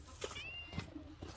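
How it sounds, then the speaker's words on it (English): A cat meows several times in short, close calls outdoors on a farm at breakfast time, with a faint bird chirp and quiet background noise between the meows. "She's meowing."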